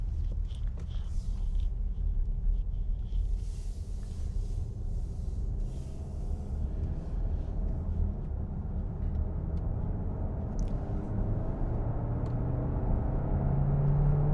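Steady low road rumble and muted engine drone inside a Skoda Kodiaq 1.5 eTSI while driving, a constant quiet cabin hum with faint tyre noise and no talking.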